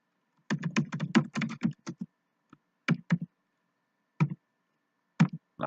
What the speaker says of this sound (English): Not typing well today, sorry.